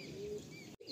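In a pigeon loft, low cooing from a pair of male and female pigeons runs for a moment before a brief gap and a short rustle.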